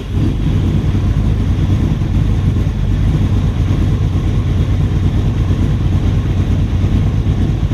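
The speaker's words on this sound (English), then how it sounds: "You are now ready to start the engine." A motorcycle engine idles after a cold start, a loud, continuous low rumble with a fine rapid pulsing, steady throughout and heard up close without any talking.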